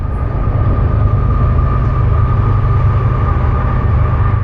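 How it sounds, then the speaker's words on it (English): A mainline freight train rumbles through the trees, a steady, continuous low roar with no breaks that holds at an even loudness throughout, with no voices. "the sound of a mainline freight train was heard through the trees"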